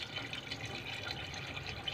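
Water poured into a pot of native chicken, a faint, steady splashing trickle lasting about two seconds, with no talking.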